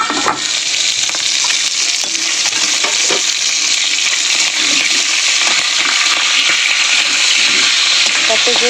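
A fish head fries loudly in hot oil in a covered pan, giving a dense, continuous sizzle and crackle with a few sharper pops throughout.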